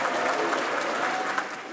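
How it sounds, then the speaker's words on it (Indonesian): Large audience giving Indonesian presidential candidate Anies Baswedan a big round of applause, a dense, continuous burst of clapping that fills the whole moment. "Berikan tepuk tangan yang besar kepada Pak Anies."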